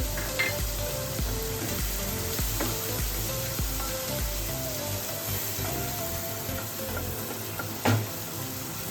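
Finely chopped green chillies sizzling in hot oil for a paneer curry, producing a dense, continuous close frying hiss with scattered pops and a few stirring knocks, and a louder clatter near the end.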